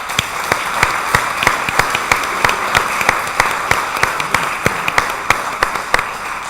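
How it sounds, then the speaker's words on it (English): Audience applause for the President at a business conference on interim management: steady, dense clapping from a crowd that holds at an even level throughout, with a scattering of sharper individual claps standing out. "I'd like to ask you to give a warm hand of applause to the President."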